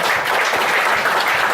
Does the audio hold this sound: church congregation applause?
yes